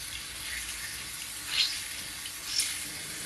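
Water running from a tap while something is washed with dish soap, a steady moderate hiss of flowing water with two brief louder splashes, no talking.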